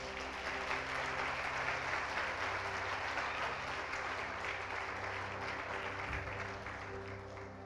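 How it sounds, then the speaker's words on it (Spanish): A church congregation applauds during a Spanish-language worship service, a steady wash of clapping that runs the whole stretch and tapers slightly toward the end, with no speech. "Dele ese aplauso"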